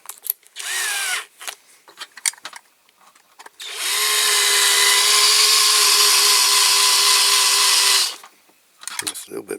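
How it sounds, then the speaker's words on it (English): A power drill fitted with a bigger bit bores into the metal of a restored Dinky Toys AEC transporter model, a loud sustained whine lasting several seconds, with brief voices and handling noises before and after. "I'll use a bigger drill bit now."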